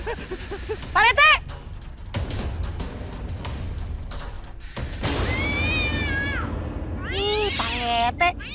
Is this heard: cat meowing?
yes